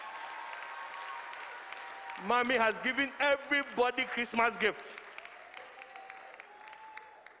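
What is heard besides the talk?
church congregation applauding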